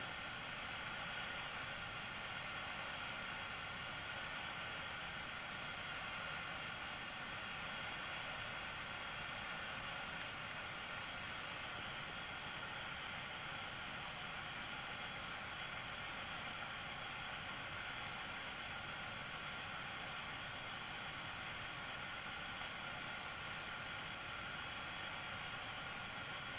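Steady hiss of white-noise static from a radio set on the floor during a paranormal investigation, continuous and even throughout with no clear breaks, fairly quiet and heard alone without talk.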